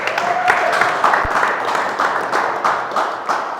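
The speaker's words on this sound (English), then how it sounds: "let's give my main man a round of applause real quick for bringing in these dope ass speakers" Crowd applause for a host at an entrepreneurship speaking event, a dense, steady patter of many hands clapping at moderate distance with no voices over it.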